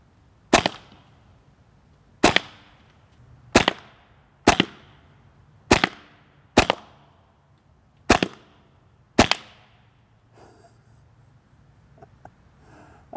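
Hatsan BullMaster semi-automatic air rifle firing at watermelons: eight sharp, loud shots spaced about a second apart, each cracking then decaying quickly, followed by quiet shuffling.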